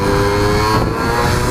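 Single-cylinder engine of a DS100 motorcycle revving steadily, loud and close with a dense, continuous buzzing drone and no talk over it.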